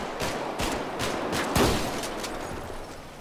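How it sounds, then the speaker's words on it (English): A rapid string of gunshots cracks out in a burst, about eight sharp reports in irregular quick succession, one louder near the middle, with no speech. "Shots fired."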